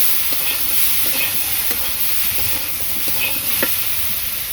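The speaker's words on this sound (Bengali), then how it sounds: "কাঁচামরিচ দিয়ে দিলাম, একটু নাড়াচাড়া দিয়ে এখন ঝোলটা দিয়ে দিব।" Green chillies are stirred and fried in a pan, a constant close sizzle broken by repeated soft scraping strokes of the spoon.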